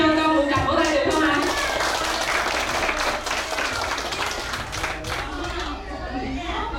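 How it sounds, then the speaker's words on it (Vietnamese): An audience at a preschool graduation ceremony in Nha Trang breaks into loud, dense applause, with many hands clapping close and full, along with crowd murmur, before it gradually thins out. "Xin chúc nhau con một tràng vỗ tay được không ạ?"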